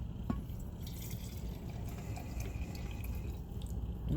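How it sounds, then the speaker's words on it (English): Hot water pours steadily at close range, a continuous watery splash with small drips and trickles and no voices. "More hot water."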